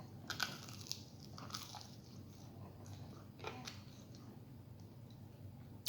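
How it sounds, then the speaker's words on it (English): A few soft crunches from biting into roasted Brussels sprouts, close but faint, followed by quiet chewing in a hushed room. "I do like this crunch."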